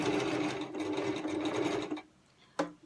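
Electric sewing machine stitching a folded fabric ear pressure band, a steady close whirring run of about two seconds that stops, followed by a brief click.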